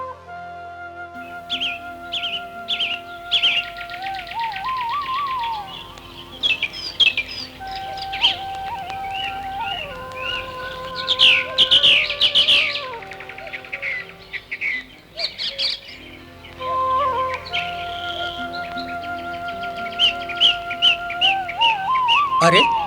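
An animated sparrow chirps and tweets in a cartoon moral story. Quick high calls mix with rising whistled tones and light musical effects over about twenty seconds.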